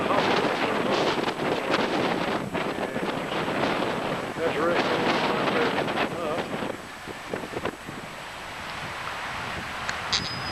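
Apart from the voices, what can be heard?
strong wind outdoors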